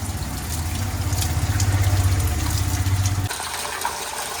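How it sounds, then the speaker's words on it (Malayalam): An electric motor pump hums steadily while water gushes into a cleaned household tank. The low drone cuts off abruptly near the end, leaving only the rushing and trickling water. "നമ്മൾ ടാങ്ക് ക്ലീൻ ചെയ്ത് കഴിഞ്ഞ് നമുക്ക് മോട്ടർ അടിക്കാം"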